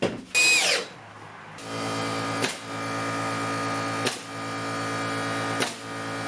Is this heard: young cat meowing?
no